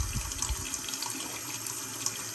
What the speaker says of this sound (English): So I'm running hot water on it right now.